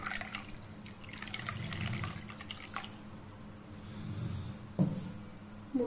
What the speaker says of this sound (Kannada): ನೀರು ಹಾಕ್ತಾ ಇದ್ದೀನಿ